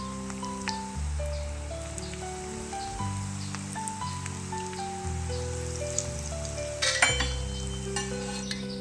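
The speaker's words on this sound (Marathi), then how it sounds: "आपल्याला ह्या वड्या कमी गॅसवरच गोल्डन होईपर्यंत तळू द्यायचे आहेत" Colocasia leaf vadis fry in oil over low gas, a steady close sizzle with soft crackles and pops throughout, no talking.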